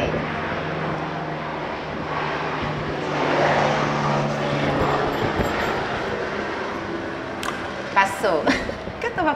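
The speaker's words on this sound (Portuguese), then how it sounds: "assim que passar esse avião" A fixed-wing airplane passes overhead, a broad roaring drone that swells and fades over several seconds, with brief bursts of close talk near the end.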